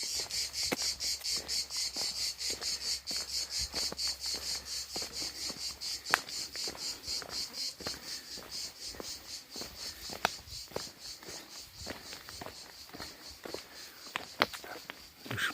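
Cicadas in oak trees along a countryside walking path on the Saint-Jacques pilgrimage route make a dense, continuous high buzzing throughout, with soft footstep-like clicks scattered beneath it.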